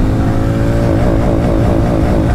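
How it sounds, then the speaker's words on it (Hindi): A Hero Mavrick 440 motorcycle pulls away in first gear, its engine note loud, close and steady, climbing in pitch as it accelerates, with no voices. "फर्स्ट गियर में बाइक जा रही है"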